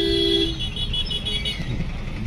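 A vehicle horn honks once, loud and close, over the steady rumble of an engine and traffic on a busy street.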